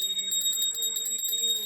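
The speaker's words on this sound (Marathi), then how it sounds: "घे ना घंटडी वाजव." A small hand bell rung for Ganesh aarti on Gudi Padwa jingles rapidly and continuously, close and fairly loud throughout the short stretch.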